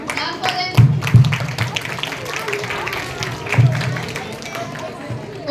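Children in a classroom clap briefly for a correct quiz answer, a few scattered loose bursts of applause over a noisy room with murmuring voices.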